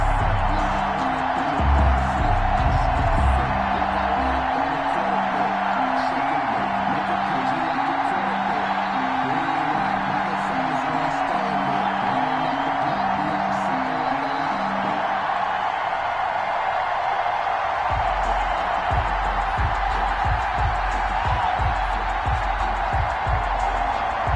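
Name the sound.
stadium crowd cheering in Madden 21 video game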